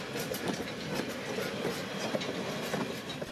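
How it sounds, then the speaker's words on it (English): A freight train rumbles steadily past nearby on the Strasburg Rail Road, with rhythmic wheel clatter over the tracks and a broad, continuous roar; no voices. "After performing 2 runbys, the freight train clears the line"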